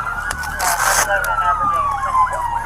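Emergency vehicle siren sweeping up and down in wails at a police shooting scene on a city street, close and loud, starting amid a burst of noise with voices talking over it.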